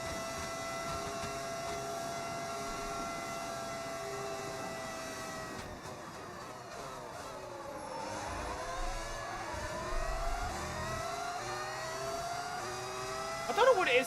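A modded Cadillac Formula 1 car engine in the F1 26 racing game, a steady high-pitched whine that dips and then climbs again through the gears, heard at moderate level with faint talk underneath.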